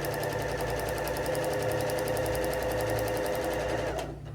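A sewing machine stitches fabric for a quilt-along block, a close, fast, even needle rattle running steadily for about four seconds before slowing at the end.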